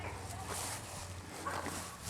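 A dog barks outdoors in a vegetable garden, giving a few sharp woofs with a whimpering edge over steady background noise.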